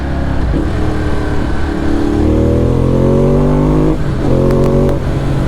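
A motorcycle engine revs while riding on a small road, its loud, close drone climbing steadily in pitch, dipping briefly between gears and rising again under steady wind noise.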